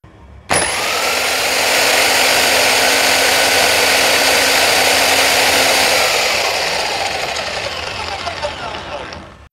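A DPB 30 power tool runs during an RPM test, starting abruptly and holding a loud, steady, high-pitched mechanical roar for several seconds before winding down gradually.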